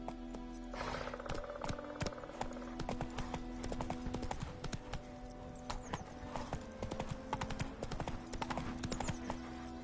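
Roach the horse trots in The Witcher 3, its hooves making a brisk, continuous clip-clop close by. The rhythmic beats hold steady throughout, over faint background game sounds.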